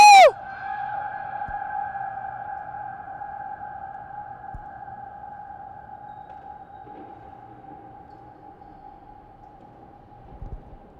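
A single loud sung or shouted note cuts off and then rings on in a large reverberant space, a steady tonal hum slowly fading for about ten seconds with faint rustles below.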